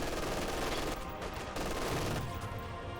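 Gunfire from an MG42 machine gun in the Company of Heroes 2 strategy game, a dense, loud, continuous rattle of rapid shots running through the whole stretch with battle noise layered beneath.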